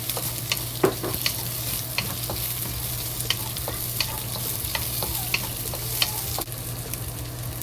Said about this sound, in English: When the oil is hot, we add the carrots into it to slowly fry.